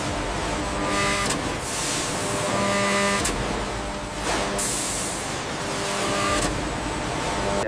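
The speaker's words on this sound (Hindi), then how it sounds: "फिर लेदर को बड़ी मशीन कट करती है।" Large industrial cutting machine working through leather for jackets and bags in a leather factory, a steady loud mechanical whir with repeated sharp clacks and hissing bursts roughly every second or two, continuous factory machinery throughout.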